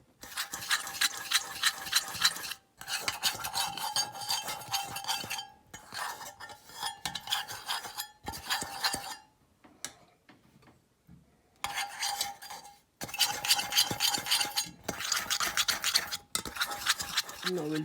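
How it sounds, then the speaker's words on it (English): A muffin pan greased with oil, heard as steady bursts of close scraping and rubbing against the metal tin, interrupted by short pauses and a few light clinks. "So now I'll add one drop and I'll grease all the muffin pan"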